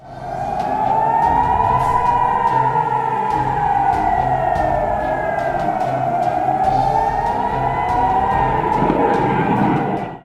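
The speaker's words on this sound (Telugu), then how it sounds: "సరిహద్దు గ్రామాల ప్రజలను సైరన్లతో భారత సైన్యం అప్రమత్తం చేసింది" Army warning sirens sounding to alert border villages during an India–Pakistan drone attack, a loud continuous wailing tone rising and falling slowly, with a second siren layered underneath, steady throughout without pause.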